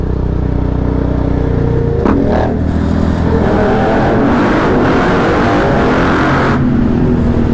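A motorbike engine revs hard and loud right next to the listener, climbing and falling in pitch as it shifts through the gears, with a steady roar running throughout.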